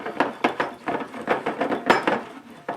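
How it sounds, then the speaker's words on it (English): A peanut butter and coconut oil fudge mixture being whisked in a bowl, with quick, uneven scraping and clinking strokes repeating rapidly and close by. "now we got to whisk it all together till it's smooth"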